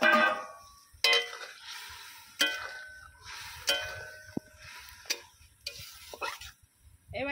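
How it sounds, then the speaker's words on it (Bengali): Fried pointed gourd (potol) stirred into spiced masala in a pan gives a soft sizzle under repeated scraping and clanking strokes of a spoon against metal, each clink sharp and close, with quiet gaps between. "এবারে আমি এর মধ্যে দিয়ে দেবো ভেজে রাখা পটল।"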